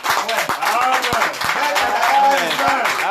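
Audience clapping breaks out over a lively church congregation, sharp claps scattered through steady crowd noise and voices.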